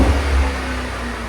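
A straight-piped 6.4L HEMI V8 in a 2017 Jeep Grand Cherokee SRT revs loudly and close, a rough, throaty exhaust roar holding steady for a moment.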